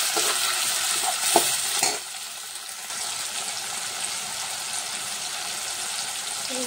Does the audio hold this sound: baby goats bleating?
no